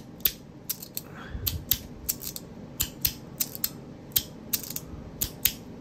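A 3D-printed Desert Eagle fidget toy clacks down repeatedly, giving a series of sharp, close plastic clicks in an uneven rhythm over a faint background rumble.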